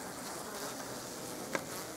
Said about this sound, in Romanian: Ce a făcut albina toată? A venit pe rama asta.